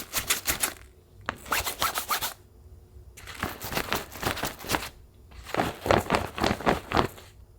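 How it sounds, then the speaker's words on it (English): X-Pac fabric crinkles and rustles in several bursts with brief pauses between, sharp crackly handling noise close to the listener. "The X-Pac does sound a bit more crinkly than the Ripstop"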